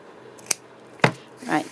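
Scissors snipping while making beaded Christmas baubles, two short sharp cuts about half a second apart, close and clear, followed by a brief rustle.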